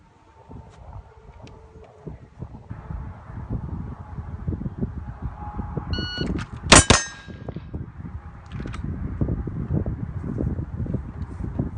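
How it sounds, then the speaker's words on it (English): A pair of rapid shots rings out on a shooting range, each striking a steel target with a sharp metallic clang, loud and close. Steady wind noise runs underneath, before and after. "We're gonna start doing 2 rounds in under a second."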